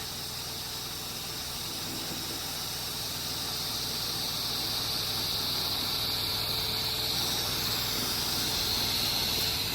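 A pressure washer rinses down a house roof, giving a steady, broad spray hiss that builds slightly and runs unbroken at close range.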